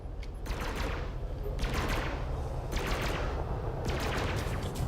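Rapid bursts of ship gunfire in the space combat game Elite: Dangerous, coming as four or five sustained volleys at close range.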